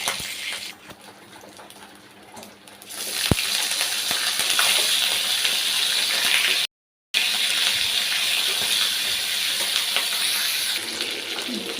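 Chicken pieces sizzle and crackle in hot oil in a village kitchen, a steady hissing fry that rises louder partway through and continues with a brief break.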